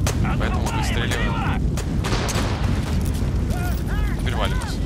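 Gunfire in Far Cry 5's map editor, a dense run of loud, close shots and booming blasts that continues for about five seconds over a busy background of game sound.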